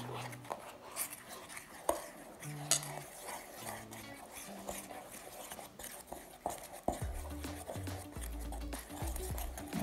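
Strengthening hair mask ingredients for curly, frizzy hair worked with hot water into a smooth paste: quick, irregular tapping and scraping clicks, quiet and close, over faint background tones.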